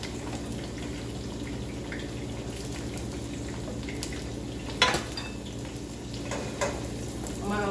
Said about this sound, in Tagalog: Prituhin ko lang itong aking zucchini.